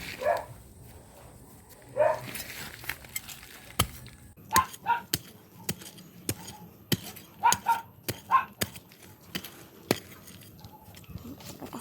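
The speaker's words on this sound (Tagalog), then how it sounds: "Pasensya po kasi maingay ang aso." A dog barks in short, uneven bursts at moderate distance. Sharp knocking and chopping clicks are scattered between the barks.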